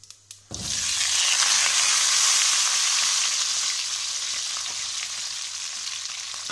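Potatoes dropped into hot oil in a pan sizzle loudly at once, settling into a steady, close frying hiss that eases slightly toward the end.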